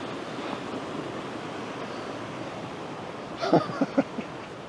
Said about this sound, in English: I thought, well, it kind of looks like a waterfall, but it's not super impressive.